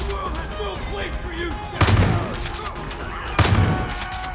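Two loud shotgun blasts in the video game Far Cry 5, evenly spaced about a second and a half apart, booming over background game noise while a player talks.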